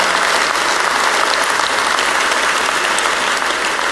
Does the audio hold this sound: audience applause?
yes